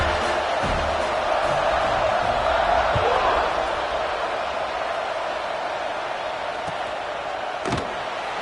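Stadium crowd noise from an NCAA 26 college football video game, a steady broad roar of cheering fans that holds throughout at a fairly constant level, with a few sharp thuds and bursts rising over it.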